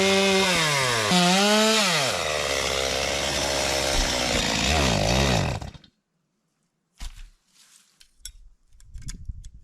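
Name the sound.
chainsaw running with an overheating bar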